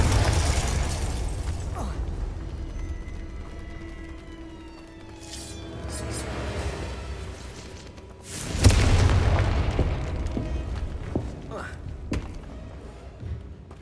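Confringo blasting spell going off in the video game Hogwarts Legacy, a heavy booming burst with a sharp onset followed by a rumbling tail, set among other spell effects and game ambience with a voice casting between blasts.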